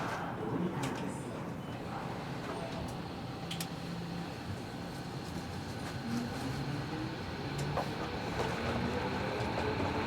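Tobu 70000 series commuter train running between stations on the Hibiya line toward Kita-Senju, a steady loud rumble of wheels and motor with faint rising whine, heard from inside the carriage.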